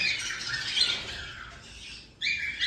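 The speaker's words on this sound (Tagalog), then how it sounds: "mga kaibon din natin yan" Pet birds in flight cages squawking loudly and up close in harsh, sustained bursts, with a brief pause before the calls resume.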